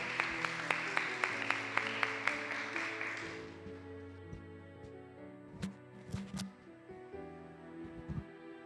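A church congregation at a Sunday worship service in Jeju claps in a steady, even rhythm for a few seconds over sustained keyboard chords, then the clapping stops and soft music carries on with a few scattered sounds.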